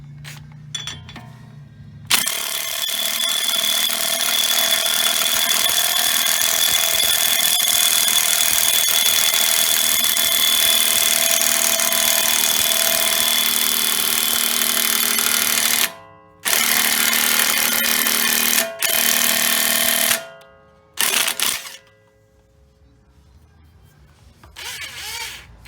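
An impact wrench draws a new wheel stud into a Jeep Wrangler hub, a loud, close, sustained buzzing hammer that runs for about fourteen seconds, then stops and restarts in short bursts.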